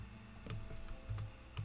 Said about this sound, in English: I'm the baddest at typing for some reason.